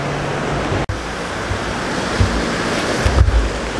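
Waves washing onto a lake beach, a continuous loud wash of surf and wind noise with a couple of brief dropouts and no voices.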